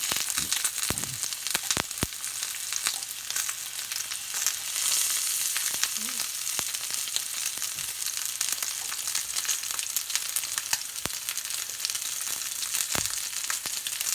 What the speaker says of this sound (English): what you're doing is just trying to get a nice sear on the outside to lock the flavor in